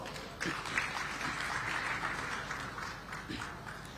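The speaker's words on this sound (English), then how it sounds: "Please give yourselves a round of applause." Audience applause fills a hall at an investment conference in Kilifi County, a steady broad wash of clapping from a sizable crowd that holds at moderate level throughout without voices on top.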